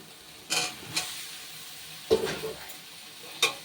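Fried elephant foot yam and potato tipped into hot masala oil in a pan while cooking oler dalna, giving a few sharp clattering stirs and scrapes over a soft steady sizzle.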